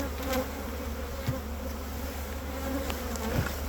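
A steady, dense buzz of many honeybees humming together inside a hive, close and continuous throughout.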